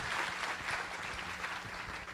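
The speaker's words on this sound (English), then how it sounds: "let's give her a very warm round of applause" Applause for a speaker at a tech summit session: steady clapping from a seated audience fills the room at moderate volume, even and continuous throughout with no talk over it.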